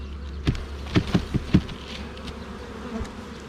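Honey bees in a hive box hum and buzz at close range, a low steady drone with several brief louder buzzing bursts as bees pass near.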